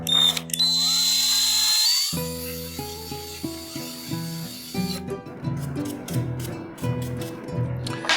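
A power drill with a grab point bit bores 3 mm holes in wood, a high whine spinning up and then a run of short, repeated bursts of drilling up close.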